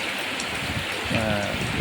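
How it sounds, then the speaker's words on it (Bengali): Heavy steady rain hisses in a dense wash outside a madrasa, with a brief voice or animal call surfacing near the end. "আপনাদেরকে দেখানোর জন্য যে বৃষ্টিগুলো কেমন"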